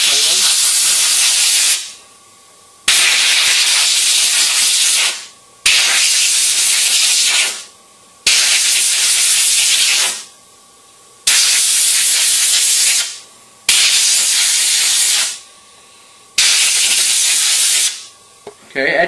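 Compressed air blasts across carburetor parts during a cleaning and fuel pump repair, seven loud hissing bursts of about two seconds each separated by short pauses, with a faint steady tone underneath.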